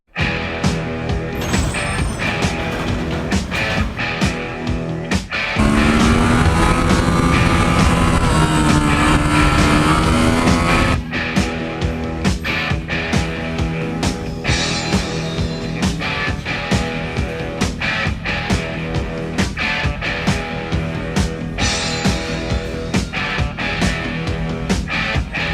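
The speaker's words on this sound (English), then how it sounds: "Okay, this is going to be a test ride of the Ducati" A 2017 Ducati Supersport S is ridden through San Francisco streets, its engine a loud, steady drone that climbs in pitch during a strong rev in the middle before settling back to a constant hum.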